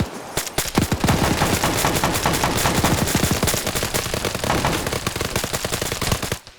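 Gunfire in a military video game: a long, loud, dense burst of rapid automatic shots with overlapping reports, continuous for several seconds before cutting off abruptly.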